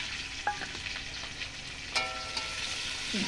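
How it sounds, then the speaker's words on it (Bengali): Spices temper in hot oil for a curry, crackling and sizzling steadily at close range with a few sharper pops scattered through. "এখন তরকারি রান্না করব ফোড়ন দিয়ে দিয়েছি"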